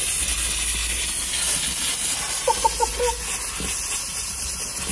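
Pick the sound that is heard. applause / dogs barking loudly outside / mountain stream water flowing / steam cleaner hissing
steam cleaner hissing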